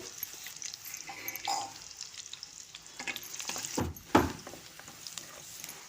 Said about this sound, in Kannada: ಒಂದು ಈರುಳ್ಳಿ ಹಾಕೊಳ್ಳೋಣ ಈರುಳ್ಳಿ ಸ್ವಲ್ಪ ಫ್ರೈ ಆಗಲಿ